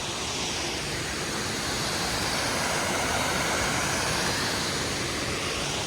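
Steady, loud rush of falling water fills the scene, a continuous broadband roar with no pauses.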